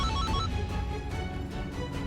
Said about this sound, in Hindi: हाँ, मगर ये हमारे फोन का रिंगटोन नहीं है, हमारा फोन नहीं बज रहा है।